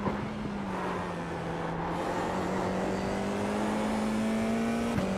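A race car engine in iRacing at Mount Panorama holds a steady, droning note at high revs, loud and continuous with slight pitch drift, then a quick downshift blip near the end; no voices.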